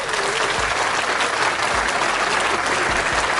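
An audience claps steadily for a 49ers roster roll call, a dense, even wall of applause with a few low thumps scattered through it and no talk.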